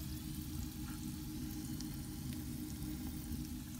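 A faint, continuous fizzing sizzle with tiny crackling pops as hydrogen peroxide reacts on an aquarium plant, steady throughout over a low background hum.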